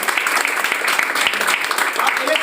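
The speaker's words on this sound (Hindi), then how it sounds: "तालियां तो मार दो" Audience applause at a motivational talk, dense, bright clapping from a crowd that stays loud and even for the whole stretch.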